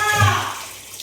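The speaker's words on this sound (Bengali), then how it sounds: "দিতে গেলাম পুরো জল ছিটে গেল" Water splashes out of a small bowl while raw chicken is rinsed under a running flow in a kitchen, a short burst of loud close splashing at the start that quickly fades.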